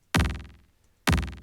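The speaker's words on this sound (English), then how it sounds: "just like a kick drum with a really fast delay" Two punchy kick drum hits about a second apart, each followed by a rapid fluttering echo that decays quickly; no voices.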